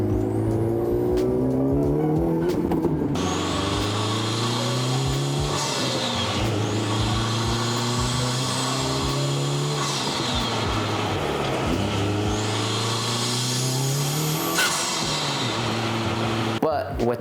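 Honda Civic Type R turbo engine with aftermarket intake revving hard through several gear pulls, rising pitch sweeps with shifts in between and a whooshing intake tone, loud and close.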